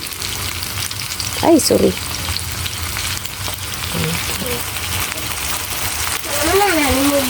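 Eggplant sautéing with soy sauce in a pan gives a steady frying sizzle throughout, with brief louder clatters of stirring, while someone talks over it now and then.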